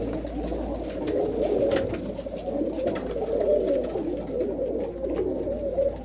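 Large pigeons coo continuously in a loft, a low throaty murmur of several birds overlapping at close range, with no one talking.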